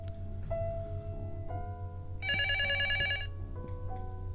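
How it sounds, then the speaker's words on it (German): Telephone ringing in the LUTO psychological horror video game demo, a single bright electronic bell burst sounding once clearly over a low steady hum and soft background tones. "Telefon."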